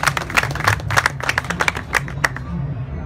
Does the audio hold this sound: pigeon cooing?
no